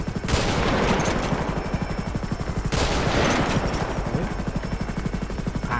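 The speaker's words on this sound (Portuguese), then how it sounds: "Tô tentando atirar, tá recarregando" Rapid automatic gunfire in a GTA 5 roleplay game plays as a dense, evenly spaced rattle of shots running almost unbroken, with two sharper bursts standing out and a constant low engine-like drone beneath.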